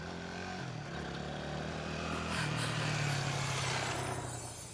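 A motorbike rolls past close by, its engine note climbing and swelling toward the middle before fading as it moves off, with no talk over it.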